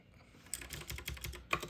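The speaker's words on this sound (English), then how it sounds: "We'll type it." Typing on a computer keyboard: a quick, uneven run of close key clicks with a sharper clack near the end, heard alone with no voices.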